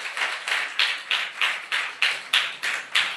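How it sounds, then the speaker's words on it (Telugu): Church congregation clapping together loudly in a steady, even rhythm, about ten crisp sharp claps in three seconds, close and without talk. "గట్టిగా చప్పట్లు కొడదామా?"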